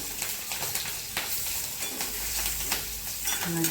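Garlic and green chillies fry in hot oil for a safflower-leaf dish, a soft continuous sizzle with intermittent light scrapes and stirring taps.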